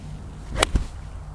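A golf club strikes a ball in a sling-draw practice swing, giving one sharp, crisp crack close by with a brief follow-on swish, then quiet.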